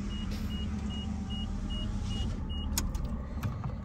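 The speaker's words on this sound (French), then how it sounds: "Je vais un peu baisser la vitre" A car's power window lowers with a low steady motor whir inside the cabin, accompanied by a regular series of faint electronic beeps and a soft click near the end.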